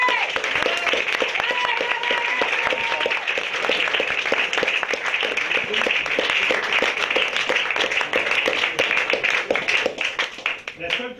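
Audience applause for a comedian on a stage show, dense sustained clapping from a crowd lasting the whole stretch with voices heard over it, close and loud.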